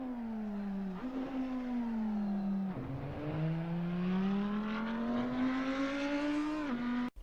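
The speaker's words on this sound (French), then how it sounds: "Quand je prends mes gaz, ma voiture pointe déjà bien comme il faut vers la sortie." A car's engine revs and pulls steadily as it reaccelerates out of a corner, pitch rising and dipping through gear changes in a sustained, fairly close drone.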